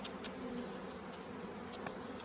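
Honey bees packed into a strong mini nuc hive make a faint, steady, close buzzing drone with slight flickers of individual wingbeats and no voices.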